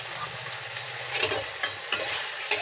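Diced boiled potatoes stirred into hot oil in a frying pan with drumstick flowers, a steady close sizzle broken by several scraping stir strokes.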